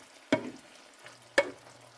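Taco filling meat in a pan cooking down with fat left in, producing two sharp stirring scrapes over a low, steady sizzle, close and fairly quiet.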